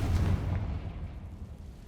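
A Confringo fire blast spell goes off in Hogwarts Legacy as a single heavy boom up front, followed by a rumbling tail that fades over about a second and a half.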